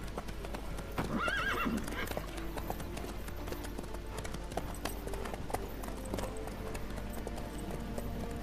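A horse in The Witcher 3 whinnies loudly near the start, then keeps up a steady clip-clop of hooves at a gallop under ambient game sound.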